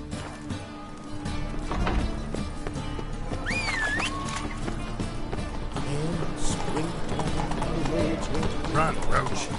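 Roach, a horse in The Witcher game, gallops with steady, rapid clip-clop hoofbeats running under game music and voices talking, moderately close and continuous throughout.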